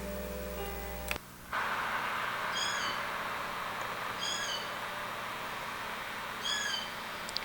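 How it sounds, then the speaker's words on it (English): A songbird sings in the background on a rural Vermont side road near Killington in October, three short repeated whistled phrases spaced a couple of seconds apart over steady outdoor hiss, after a brief thump. "Hear the bird in the background?"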